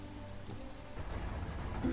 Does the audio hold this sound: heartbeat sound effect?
no